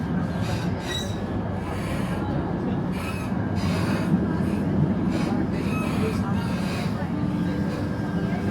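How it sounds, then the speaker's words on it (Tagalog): A commuter train near Batu Caves in Kuala Lumpur rumbles steadily along the track, with wheel noise and rhythmic clatter, while people talk over it. "We will just ride the train."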